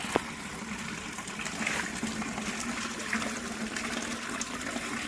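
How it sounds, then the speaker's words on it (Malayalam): Rainwater rushes steadily through a large drain pipe, a continuous moderately loud gush and trickle heard close by with no voices. "ഇനി അടിയില് വലിയ പൈപ്പ് ഉണ്ട് അതിലേ കൂടെ വെള്ളം പോകുന്നതാണ്"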